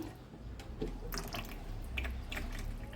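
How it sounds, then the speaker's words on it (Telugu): Cooled, thick rice starch (ganji) is strained and poured for stiffening cotton sarees. Close wet drips and splashes come in a few uneven bursts over a low background hum. "గంజి చల్లారిపోయిందండి ఇలా వడపోస్తున్నాను గంజి"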